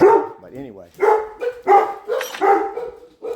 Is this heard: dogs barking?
yes